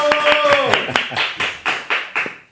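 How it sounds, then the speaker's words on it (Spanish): Close, steady clapping from an audience greeting a neurosurgeon at a biomedical association event, about ten sharp claps in a regular rhythm, with tonal voices fading out under the first claps. "Un fuerte aplauso para el doctor Rodrigo Uribe Pacheco"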